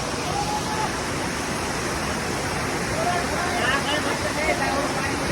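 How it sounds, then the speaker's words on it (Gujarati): Heavy rain pours down in a dense, continuous roaring wash that stays loud and even throughout, with faint voices barely surfacing underneath. "વરસાદ એટલો પડે છે ને કે પલ્લી જઈએ પાછા."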